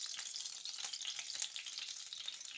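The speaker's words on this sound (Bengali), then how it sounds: "এই যে আবার কড়াইতে আমি একটু তেল দিয়ে দিলাম" Oil heats in a kadai (wok) with a steady sizzling crackle that holds loud and close, with no talk over it.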